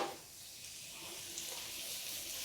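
Mushrooms fry in a pan with a faint, steady hiss of sizzling that holds evenly throughout, quiet and without talk.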